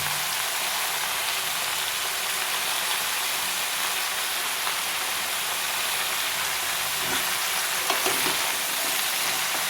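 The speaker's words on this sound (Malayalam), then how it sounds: "വഴറ്റുന്ന സമയത്ത് നമുക്ക് ഇതിനകത്തൊരു കുറച്ച് ഉപ്പ് ഇട്ട് കൊടുക്കാം." Vegetables sautéing in oil for avial make a continuous, even sizzle close up, like light rain on a surface, with occasional soft stirring noises toward the end.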